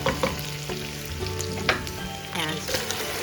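Onions sizzle and fry as they go back into a pot for corn chowder, a steady close crackle broken by a few sharp spatters and stirring clinks, with no talking.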